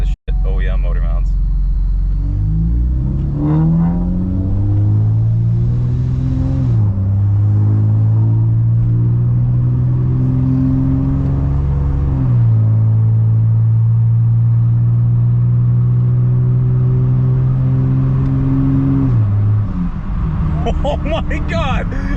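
Acura TL Type-S fitted with a Rotrex supercharger revs loudly up close, its engine note stepping up and holding in several sustained blips before dropping back.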